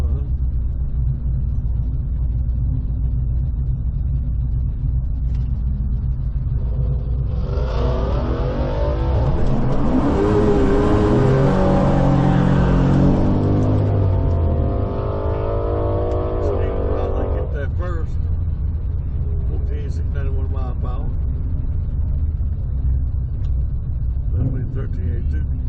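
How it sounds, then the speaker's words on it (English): A Ford Mustang GT with a ported intake accelerates past, its engine roar building from a steady hum into a loud, rising rev in the middle before fading, over constant low road noise. "left lane Mustang GT"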